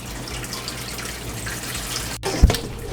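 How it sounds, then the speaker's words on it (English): Water being poured out of an aquarium tank, a soft continuous trickle and splash under room noise, ending with a brief clunk and a louder gush near the end. "very carefully empty this water out"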